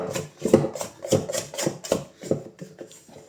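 A scraper rasps sticky brioche bread dough off a work surface in rhythmic, close strokes, about seven repeated scraping passes with a rough, gritty texture and no talk.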